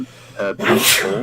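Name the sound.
person sneezing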